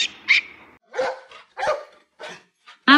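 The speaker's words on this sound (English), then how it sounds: "African wild dog." A series of sharp, yelping barks from an African wild dog, about five or six short calls spaced irregularly, fairly close and loud.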